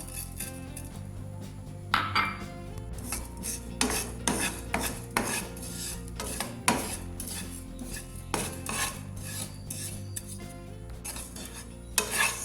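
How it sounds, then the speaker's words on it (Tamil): Cumin seeds dry-roast in a pan while being stirred, giving repeated close metallic scrapes and clinks of a spoon against the pan over a faint sizzle. "25 கிராம் சின்ன சீரகத்தையும் வறுத்தெடுத்துக்கொள்வோம் நல்லா"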